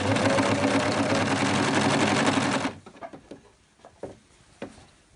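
A sewing machine runs steadily stitching a ribbed cuff onto a blouse through three layers of fabric, a loud continuous whir that stops abruptly partway, followed by quiet handling clicks.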